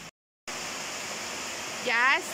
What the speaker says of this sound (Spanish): Ya está más fuerte la lluvia.